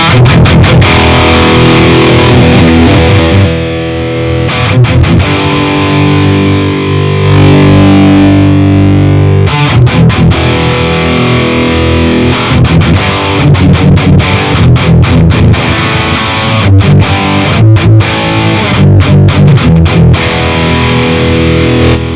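Heavily distorted electric guitar through the Audio Assault Bulldozer amp sim, loud and saturated, playing chugging palm-muted riffs with sustained chords and abrupt stops over about twenty seconds, no voice.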